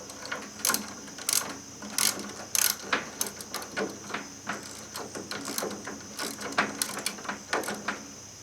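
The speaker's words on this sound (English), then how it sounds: "Now you're ready to tighten that cross bolt back up." Ratchet wrench tightening a cross bolt on an older MTD mower's wheel and axle assembly, a fast run of close, crisp metallic clicks in repeated bursts with no talking.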